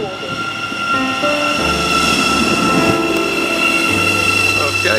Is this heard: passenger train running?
yes